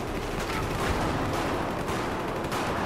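Sniper rifle fire in a video game battle rings out from an escalator perch, a dense and loud wash of rapid shots and booming reports filling the whole stretch.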